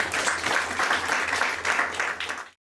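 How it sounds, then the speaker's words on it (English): A lecture audience applauds in a dense, steady burst of clapping that lasts about two and a half seconds before cutting off abruptly. "Let's give him another round of applause."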